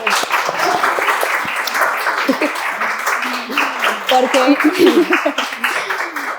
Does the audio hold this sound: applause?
yes